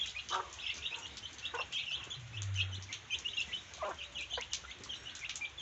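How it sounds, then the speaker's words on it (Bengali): Native home-hatched hens and chicks cluck and peep close by, with a steady stream of soft calls, bright chick cheeps and one low drawn-out cluck in the middle, and no talking. "এগুলা একদম দেশি ঘরে ফোটানো মুরগি"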